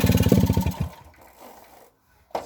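Small engine of a 1953 Motobécane AV88 moped running in a rapid, loud, close putter for under a second, then cutting out and fading, with a brief sharp noise at the very end.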